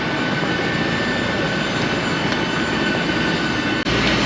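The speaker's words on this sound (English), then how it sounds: "here is the flight heading to Malaga" Airliner on a flight to Malaga, a steady, loud broadband engine roar inside the cabin that drones on without change, with a brief dip near the end.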